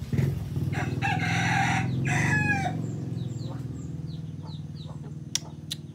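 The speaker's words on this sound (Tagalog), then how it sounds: "Tingog ako manok." A rooster crows loudly, its long call rising and falling over steady background noise, with faint bird chirps afterward.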